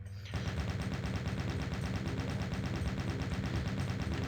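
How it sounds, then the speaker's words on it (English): Rapid, continuous machine-gun fire in Doom is aimed at an enemy, loud and dense, with shots rattling steadily from just after the start to the end and no talk. "Let's put some bullets into this awkward lump of fat."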